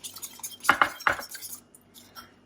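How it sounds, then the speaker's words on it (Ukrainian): Utensil scraping and clinking against a bowl while a strawberry summer salad with cream is mixed thoroughly, a few close, distinct strokes in a quiet kitchen, fading toward the end. "Висипаю все це ретельно перемішаю."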